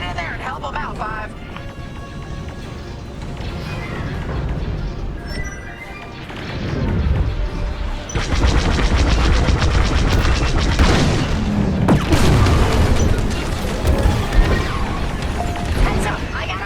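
Booming blasts and crackling fire rumble through a space dogfight in Star Wars Squadrons, a dense continuous barrage under radio chatter from pilots.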